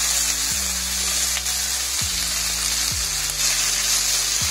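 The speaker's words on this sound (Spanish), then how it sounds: "Vamos a sofreírlo bien bien" Ingredients for a habanero salsa fry in hot oil in a pan. A dense, bright sizzle runs throughout alongside a low mechanical hum that dips in pitch three times. No voices are heard.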